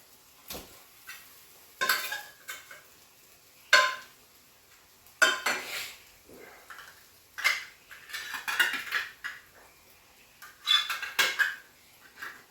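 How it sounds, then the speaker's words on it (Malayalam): Chunks of canned tuna dropped one by one into a pot of half-cooked food, giving a series of soft, close clinks and wet thuds with spoon-on-pot scrapes at irregular intervals, and no voices. "നമ്മുടെ ട്യൂണ അതിൻ്റെ ഉള്ളിലേക്ക് ഇട്ട് കൊടുക്കാം"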